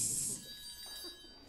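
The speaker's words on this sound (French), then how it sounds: "Solo de triangle" A triangle played by a percussionist in a community wind band rings out with a bright, shimmering high tone that fades over a second or two, with faint room noise.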